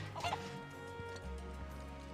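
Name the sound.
chicken clucking in video game Final Fantasy 7 Rebirth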